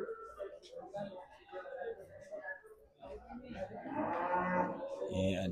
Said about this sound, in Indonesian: Ini ada sapi Bali PO dan ini semental.